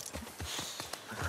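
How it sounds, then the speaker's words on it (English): Horse hooves clip-clop at a slow walk in The Last of Us Part II, a few soft, close thuds in an uneven rhythm with no talking. "We're gonna have to leave the horses here."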